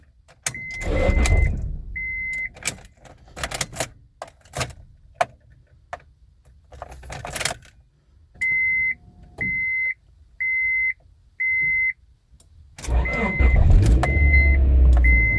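A 1997 Honda Prelude SH with a manual transmission is started using a 70mai portable battery jumper pack: a series of regular electronic beeps, a cranking attempt, then the engine catches and runs loudly close by.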